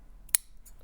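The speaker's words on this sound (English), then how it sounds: "just use the very tips of your scissors" A single brief, crisp snip from the tips of sewing scissors trimming fabric, quiet and close, followed by faint rustling.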